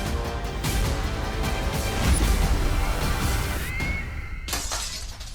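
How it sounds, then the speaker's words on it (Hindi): A glass window struck by a cricket ball shatters loudly, and breaking and tinkling fragments carry on for several seconds in a dense, crashing burst. "लगता है विवान ने क्रिकेट की गेंद से फिर से खिड़की के शीशे तोड़ना शुरू कर दिया"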